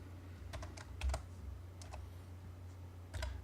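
Quiet keystrokes on a computer keyboard while working in AutoCAD, a handful of crisp taps in a short irregular burst, then a pause and one more tap, close and faint against a low steady hum.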